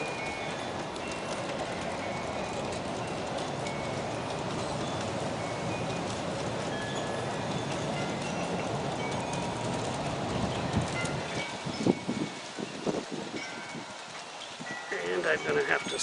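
Aristo-Craft model train with a long string of reefer cars and a Mallet helper rolling over a horseshoe curve viaduct, a steady rumbling clatter of wheels on track throughout, with birds and a voice talking over it.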